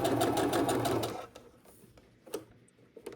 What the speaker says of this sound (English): I'm going to just put one under the sewing machine